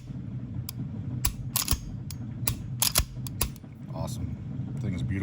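Crisp metallic clicks from the trigger reset of a custom Browning Hi-Power pistol chambered in .40 S&W, a handful of sharp, close ticks spaced irregularly over a low room hum.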